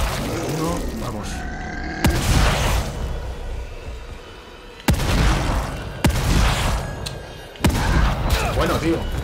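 Loud gunshots in the video game The Evil Within 2, a handful of heavy blasts spaced a couple of seconds apart, each followed by a rumbling tail.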